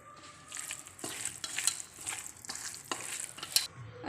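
Chicken karahi is mixed with turmeric and black pepper in a pan, with a quiet frying hiss and several spaced stirring scrapes close by.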